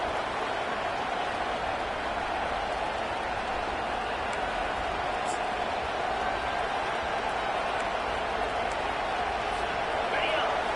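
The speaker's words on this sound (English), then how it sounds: "This crowd going to try to make life miserable for these guys." A college football stadium crowd at an OU vs Miami game roars as a dense, continuous wash of noise, loud and unbroken for the whole stretch, with indistinct voices mixed in.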